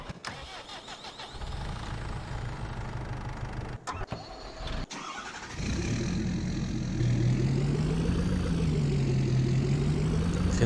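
A tractor engine in the farming game Farming Simulator 22 runs steadily and loudly, its tone rising and falling as the revs change, with no talk over it.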